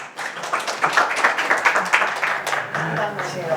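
Attendees at a farmers' college soil management lecture clap for a participant who won a small prize, scattered group applause with irregular claps, and speech runs alongside.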